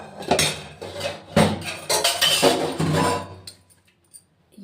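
Metal pots, pans and dishes clatter and clank in a home kitchen as a pile of utensils is moved for washing, with repeated loud close knocks and rattles that fade out at the end.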